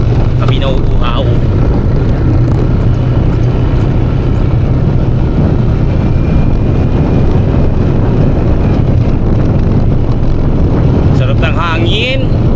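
Constant, heavy wind rushes over the microphone while riding, a loud steady roar with brief voices breaking through near the start and end.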